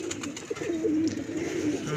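Pigeons on a rooftop loft coo steadily and close by, a soft continuous warble with a few wingbeat flutters, alone without talk.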